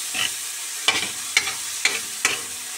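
Bitter gourd sautéing with tomato in a pan, heard as a soft background sizzle broken by four sharp, evenly spaced scraping stirs of a spatula.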